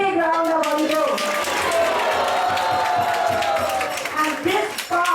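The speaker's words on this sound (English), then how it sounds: "So give her a big round of applause." Audience clapping and cheering for a woman who made a canopy at a temple festival, loud lively applause mixed with crowd voices and talk over it, thinning out near the end.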